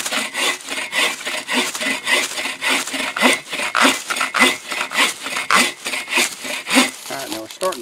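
An AGAWA Boreal 24 folding saw cuts hard wood outdoors while building a shelter. Close, steady back-and-forth strokes rasp in a quick even rhythm, with no talking.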